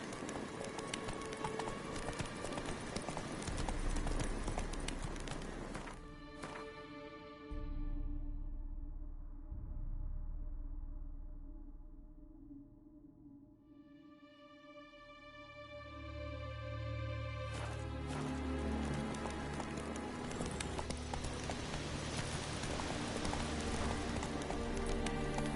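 Horse Roach gallops in a video game, hooves pounding at a steady clip, then fading under a quiet stretch of music before the galloping returns loud and close.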